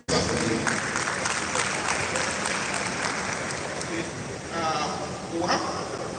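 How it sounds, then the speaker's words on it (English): An audience at a professional development session gives sustained applause that fills the room for several seconds, with individual claps audible in the wash and a voice speaking over the clapping near the end. "Let's give him another applause again"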